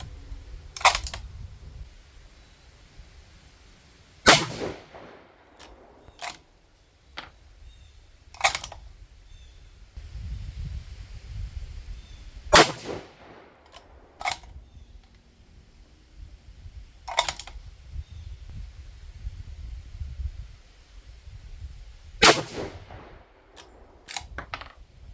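A 6 GT rifle fires from a shooting bench, several sharp cracks spaced seconds apart, each followed by metallic bolt and mechanism clicks, in otherwise quiet surroundings.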